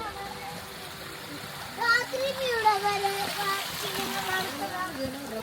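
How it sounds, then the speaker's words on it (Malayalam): Water rushes steadily beneath the Swing-A-Long suspension bridge at Rock City, a constant splashing flow that continues under a child's and adults' chatter nearby. "വെള്ളത്തിന്റെ സൗണ്ട് കേക്കണ്ട."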